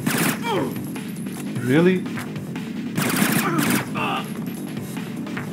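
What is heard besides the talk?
gunfire in Splinter Cell video game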